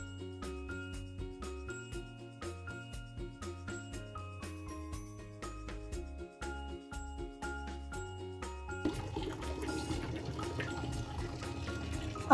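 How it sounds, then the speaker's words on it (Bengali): Mixed leafy greens are washed in water, with splashing and sloshing in the last few seconds over a steady tinkling musical backing that plays throughout. "পাঁচমিশালি শাক ধুচ্ছি।"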